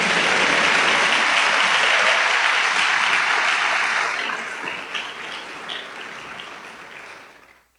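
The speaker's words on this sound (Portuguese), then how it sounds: "Você pode aplaudir o Senhor por isso" A church congregation applauding during a sermon, loud dense clapping that holds for about four seconds and then thins and fades out.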